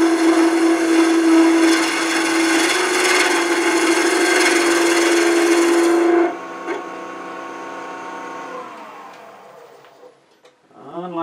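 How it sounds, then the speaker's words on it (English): Skew chisel cutting a spinning wood cube on a lathe, a loud steady scraping hiss with a sustained tonal whine that cuts off partway through, leaving the quieter hum of the lathe spinning down. "Anchor the tool, ride the bevel, lift the handle so it cuts."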